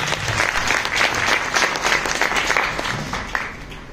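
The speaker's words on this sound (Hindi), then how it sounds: "जोरदार ताली अपने परमेश्वर के लिए।" Loud applause from a congregation during a Sunday church service in Pipalkua, Gujarat, a dense, steady clatter of many hands sustained throughout, easing slightly toward the end.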